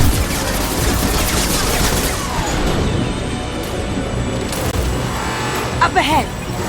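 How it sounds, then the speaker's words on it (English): Heavy sustained gunfire in the Mass Effect 2 video game, a loud dense barrage of rapid shots and combat noise running continuously throughout, with game voices and effects mixed in. "Taking heavy fire."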